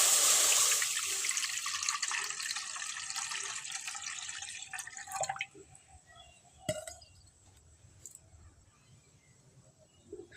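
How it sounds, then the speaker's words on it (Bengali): Water is poured into a wok to boil lentils for an egg and dal curry. A rushing pour lasts about five seconds, then fades into scattered drips and light knocks. "ডালগুলো সিদ্ধ করার জন্য প্রথমে কড়াইয়ে পানি দিয়ে দেবো"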